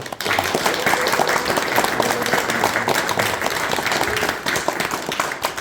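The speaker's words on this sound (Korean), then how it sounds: "우리 신부님 모셔서 우리 박수로 크게 환영할까요?" An audience applauds loudly to welcome a priest at a gathering, a full room of sustained clapping that goes on for several seconds, with a few voices faintly mixed in.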